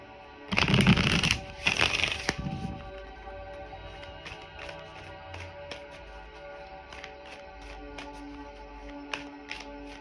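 Moon oracle cards being shuffled and handled, two bursts of riffling up front followed by soft, scattered taps and slides of the cards in a quiet room.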